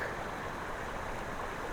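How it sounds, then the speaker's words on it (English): A jungle creek in the woods of Matagalpa, Nicaragua flows with a steady, broad rushing wash that stays even and close throughout, with no voices. "I have arrived at a creek,"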